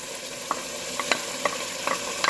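Lamb curry gravy with yogurt is stirred in a pan, with a soft sizzle under a series of light scraping strokes at an irregular rhythm.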